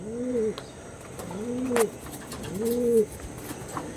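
Andhra pigeons coo in three evenly spaced, rolling calls, close and clear, with faint background noise between them.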